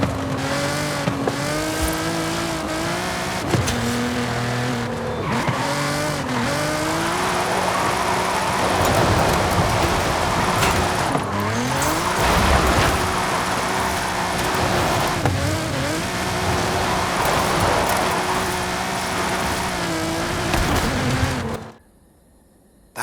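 Nissan GT-R with its VR38 engine drifting in Forza Horizon 5, engine revving up and down through repeated gear shifts with tire squeal and skidding, loud and close, running continuously before cutting off abruptly near the end.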